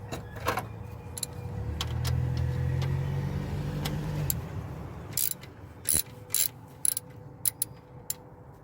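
Ratchet wrench backing bolts out of a car intake manifold, heard as a short run of quick clicking bursts after a stretch of low mechanical rumble; close and fairly quiet, no talk.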